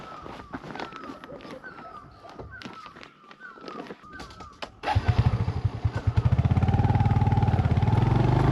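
Motorbike on a deserted mountain forest road in Uttarakhand, first quiet with someone talking over it, then the engine revs up loud and close with a rapid pulsing throb that continues to the end.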